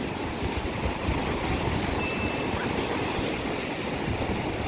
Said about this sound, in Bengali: ঢেউটা যা এলো।